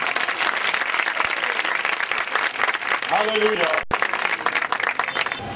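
Applause fills a church sermon hall, a steady broadband clatter of many hands near and loud, joined by congregational shouts, with a preacher's voice cutting in briefly.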